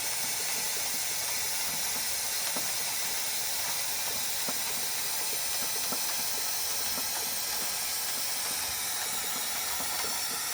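An Oil Handler suction pump draws engine oil out of a Mercedes-Benz, producing a steady, continuous hiss with faint irregular gurgling ticks, even and unbroken for the whole stretch with no talk.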